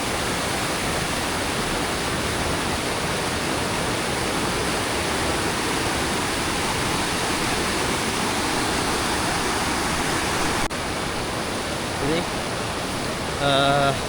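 Kolapathana waterfall at Mandaram Nuwara roars in a broad, constant rush of falling water, loud and close, ending with a brief thump and faint electronic beeps.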